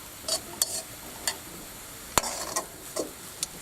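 Rice and vegetables being stir-fried in a pan for egg fried rice, with a soft sizzle under repeated scraping, tapping strokes of a utensil against the pan at an uneven rhythm, close and fairly quiet.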